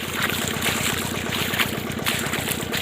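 Footsteps sloshing through a rain-flooded farm field in a village, a steady wet splashing rhythm close by, continuous and fairly loud with no talking.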